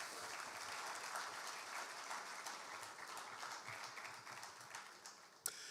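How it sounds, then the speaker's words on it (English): A conference audience on Ghana's digital infrastructure and credit scores gives a sustained round of applause, many hands clapping evenly at a distance and fairly soft, with one sharp knock near the end. "I was expecting a bigger round of applause."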